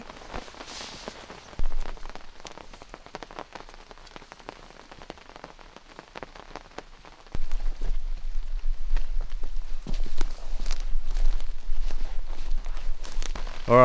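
Torrential rain pours steadily onto a tarp-shelter camp, a dense close hiss and patter that swells louder partway through and stays heavy to the end, with no voices.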